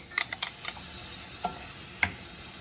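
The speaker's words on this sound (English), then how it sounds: "begin sauteing these." Onions and celery sauteing in melted butter in a skillet give a soft sizzle, broken by a few short scraping stirs and clicks from a utensil, heard up close with no one talking.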